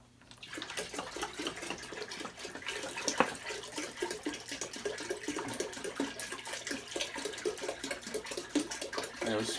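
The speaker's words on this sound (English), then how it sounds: "Yeah, we're splashing all over the place." Liquid splashes and pours continuously while pots are filled for pumpkin pie moonshine by a stove. The sound is close and busy, with voices talking over it.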